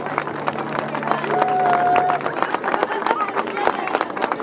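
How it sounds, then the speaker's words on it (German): A crowd claps and cheers for a Turkish cultural association's folk dance group in Kornwestheim, with dense clapping mixed with voices and crowd chatter throughout. "Applaus für den Türkischen Kulturverein."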